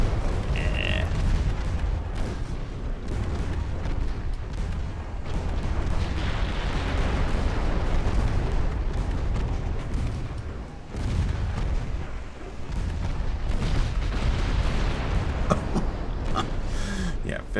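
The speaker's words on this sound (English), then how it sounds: "Yeah, 15-inch high explosive makes a bit of a mess." Heavy naval guns firing shells during a naval warfare video game battle, with 15-inch high-explosive rounds: dense, continuous booming and rumbling blasts, loud and close, overlapping throughout with a brief lull around the middle.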